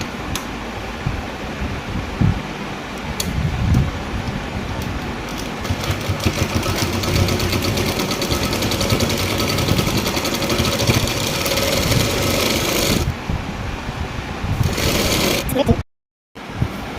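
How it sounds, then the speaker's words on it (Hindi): A sewing machine runs steadily while stitching a salwar seam, a continuous whirring mechanical hum with fast rhythmic ticking that stops briefly near the end. "और ऐसे तिरछे मिलाते हुए पूरी सलवार में पूरी गितरी वाली सिलाई लगा लेंगे।"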